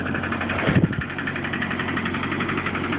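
A 1990 Volvo 760 Turbo runs after a cold start in deep snow at six degrees, its engine droning steadily and close for the whole stretch with a brief louder thump near the start.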